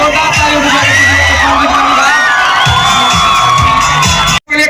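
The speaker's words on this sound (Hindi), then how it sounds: "इनके लिए एक बार जोरदार ताली हो" A college freshers' party crowd at Sitamarhi Institute of Technology cheers and claps loudly, with whoops, shrill whistles and children's shouts rising over a continuous roar, broken by a brief dropout near the end.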